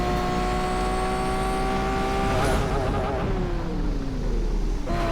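A high-pitched supercharged engine whine from a Lamborghini Sterrato in the game Asphalt 8, with steady harmonic tones, revving and shifting pitch, loud and continuous with a drop partway through.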